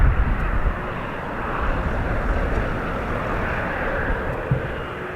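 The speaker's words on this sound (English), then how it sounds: "This Airstream, the Cessna 560XL, operated by Airstream, heading off to Faro" A Cessna 560XL business jet takes off, its engine roar a steady, broad rumble that stays loud and close throughout, with no voices over it.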